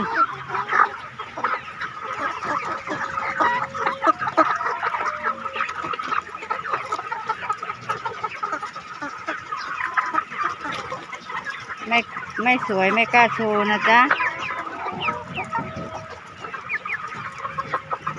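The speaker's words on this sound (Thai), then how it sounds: "ไก่สวยงามมากๆนะคะ" Chickens clucking and squawking steadily at close range, with a person talking over the birds throughout.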